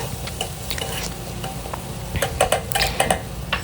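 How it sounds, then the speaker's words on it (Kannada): Chicken liver with turmeric and red chili powder sizzles in a pan while being stirred, a crackling fry joined by scraping utensil strokes and light clinks that grow busier and louder toward the end. "ಇದನ್ನು ಹಾಕ್ಕೊಂಬಿಟ್ಟು ಚೆನ್ನಾಗಿ ಎಲ್ಲದನ್ನು ಫ್ರೈ ಮಾಡ್ಕೊಳ್ತಾ ಇದ್ದೀನಿ."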